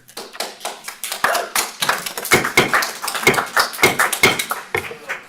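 Audience applause at a Kalispell city council work session, a burst of dense hand clapping with sharp irregular claps lasting several seconds, fairly close and loud, with no speech over it.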